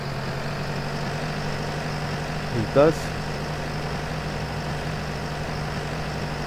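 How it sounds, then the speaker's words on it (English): A tractor engine drones steadily while driving in Farming Simulator 19, a low, even hum running through the whole stretch, with a brief spoken remark over it. "God, it feels nice to be finally driving this tractor"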